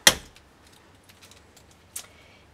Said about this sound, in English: Let me grab some scissors.